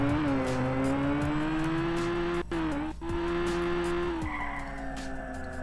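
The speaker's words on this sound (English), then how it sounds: "This was the skid sound." A racing video game car produces a steady engine drone broken by two short cut-outs, followed by a skidding tire screech effect. The sound is continuous, close and unaccompanied by speech.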